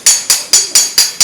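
Hammer repeatedly striking sheet metal in a metal-shaping session, six sharp ringing blows at an even steady rhythm, loud and close with bright metallic ring and no talk.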